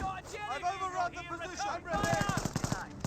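Rapid machine-gun bursts from the Company of Heroes battle game, a quick evenly spaced string of shots under a busy mix of other game noise and voices.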